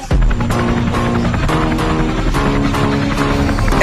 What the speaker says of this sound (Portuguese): Vou levantar esse drone pra você ver uma coisa.